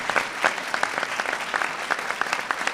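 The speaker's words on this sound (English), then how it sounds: "You can clap for Charlotte, that's okay." Applause from an audience honouring Charlotte Moser at a vaccine-access executive order signing, a steady patter of many hands clapping throughout, moderately loud and uninterrupted by talk.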